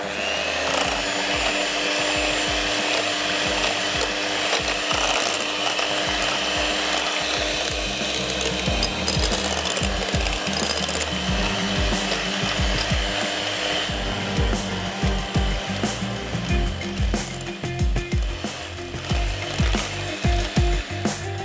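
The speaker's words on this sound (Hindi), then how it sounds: "सिर्फ इतना विप करेंगे कि तमाम चीज़ें बहुत अच्छे से मिक्स हो जाएं" A hand mixer whips a mangomisu dessert mixture in a kitchen, giving a steady, loud mechanical whir with rattling bursts that runs unbroken throughout.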